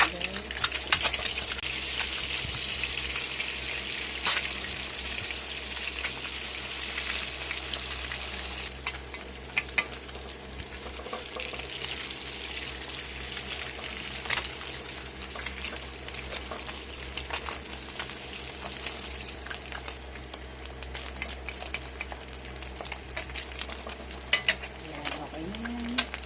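Eggs and dried fish sizzle in a frying pan and are flipped, a steady soft crackle with occasional louder scrapes and clicks, while background birdsong and a low hum persist throughout.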